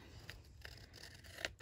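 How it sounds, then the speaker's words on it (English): Scissors trimming excess cardstock during card making, a few quiet, separate snips spaced irregularly across a near-silent background, close to the microphone. "Grab my scissors. And then just trim off"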